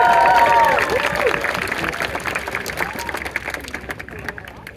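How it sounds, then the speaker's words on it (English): Outdoor crowd at a pro-Palestinian rally on a university campus applauds and cheers loudly, the clapping peaking at the start and then slowly thinning out, with scattered voices calling over it. "Give it up for Natalie"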